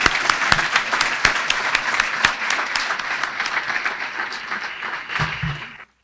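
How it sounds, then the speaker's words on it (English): An audience at a 2019 State of the County presentation applauds the sponsors, a dense wash of clapping with a few sharp nearby claps, tapering off toward the end. "Please join me in a warm round of applause for our sponsors."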